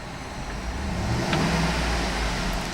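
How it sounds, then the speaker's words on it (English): A 2012 GMC Yukon XL AWD engine idles, then revs up to a louder, rising roar before easing slightly, heard close by without any speech. "I'm going to rev the engine."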